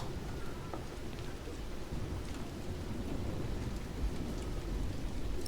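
A thunderstorm on a night during a medieval siege: heavy rain pours steadily, with low, rolling thunder rumbling under it throughout. No one speaks.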